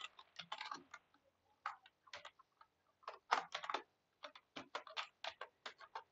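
Code being typed on a computer keyboard into a freshly configured Neovim setup, with quiet, close key clicks in irregular bursts and short pauses, with no voices.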